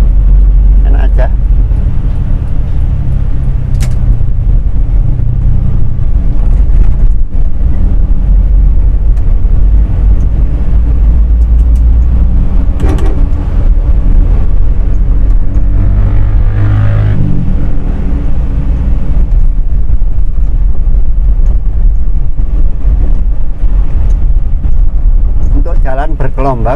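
A car fitted with clurit-pattern brake rotors drives along with a steady, loud engine and road rumble that swells and eases as the throttle is lifted and pressed again, while someone talks over it throughout.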